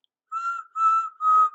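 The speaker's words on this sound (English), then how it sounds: "whistled Henry." A steam locomotive whistle, from a 1951 green engine story, gives three steady high whistle blasts in a row, each with a short gap, sounding clear and close with no talk over them.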